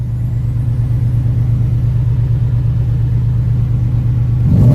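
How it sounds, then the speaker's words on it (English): A Ford Mach 1 car engine idles with a steady deep rumble, then near the end it cranks up and revs louder, close by with no talking. "whenever I crank up the car"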